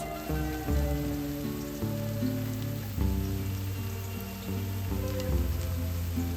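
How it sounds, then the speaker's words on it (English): Onions frying in oil in a pan on the stove, giving a continuous crackling, rain-like patter under prominent background music. "I am going to use a pan on the stove to fry these onions."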